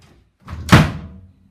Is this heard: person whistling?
no